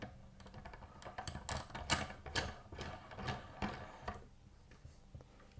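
A CeramicSpeed bottom bracket cup is hand-threaded into a bicycle frame with a tool, giving faint, irregular metallic ticks and ratcheting clicks in close succession that thin out toward the end.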